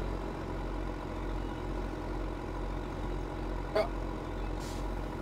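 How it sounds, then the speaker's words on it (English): Modified tractor with a pimped exhaust in a farming video game, a low steady engine rumble at idle with one brief sharp hiss partway through, no talking. "It's a pimped exhaust. Oh, it is. It's like a boy racer tractor."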